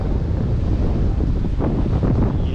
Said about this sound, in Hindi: लहरें जो है वो काफ़ी तेज़ हो गई है हवा की वजह से